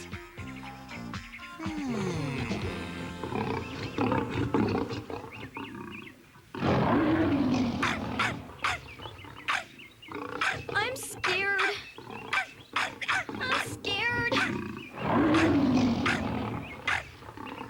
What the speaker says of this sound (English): It sounds like a lion.